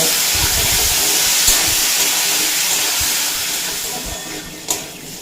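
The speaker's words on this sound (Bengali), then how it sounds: "এরপর ওই তেলে দিয়ে দেব কাঁঠালের বিচিগুলো দিয়ে দেড় থেকে দুই মিনিট মতো ভেজে নেব" Jackfruit seeds frying in hot oil left over from fried pointed gourd, a steady broadband hiss of sizzling with a couple of sharp pops, close and fairly loud throughout.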